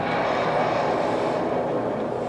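Engines of a Lynx rocket plane firing at takeoff produce a loud, steady, continuous roar that holds without a break and has no speech over it.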